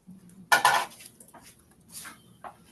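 Feta is crushed into a chicken salad with scallions, lemon juice and marinated artichokes in a bowl, making a few short scraping, clinking utensil strokes against the dish: one louder burst, then softer taps, with no talk.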